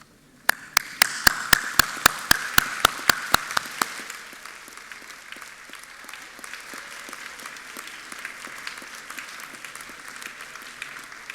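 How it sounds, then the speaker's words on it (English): Graduands at a Massey University graduation ceremony in Auckland applaud. A few sharp, evenly spaced claps lead in and quickly swell into sustained hall applause that stays dense, then thins slightly toward the end. "can I ask all graduands please to stand and applaud those support people who have helped them get where they are."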